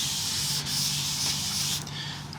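Steady close rubbing as teak oil is worked into guitar wood, a continuous even scrubbing texture with a slight change in tone near the end.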